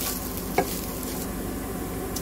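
Mumbai-style kanda poha stirred in a hot pan of tempering, a steady close sizzle of frying with a brief scrape of the spoon, with no talking.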